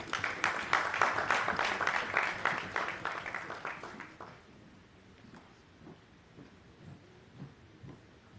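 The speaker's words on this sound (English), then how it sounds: "A round of applause, please" A crowd claps at a formal speech event, loud and dense at first, then fading over a few seconds into scattered claps and room noise.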